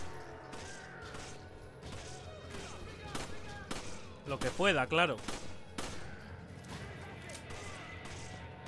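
Gunfire in the Resident Evil 5 video game set in Africa, a few sharp shots and a brief burst clustered mid-clip over steady game ambience, with someone talking throughout.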